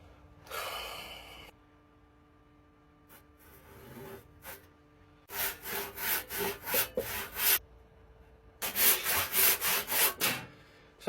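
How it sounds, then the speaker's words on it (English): A Bahco 244 handsaw cuts through a big log, two bursts of steady rhythmic rasping strokes, roughly six to eight each, close and loud, with an earlier short scrape and quiet pauses between. "I'm just gonna start following it with a handsaw."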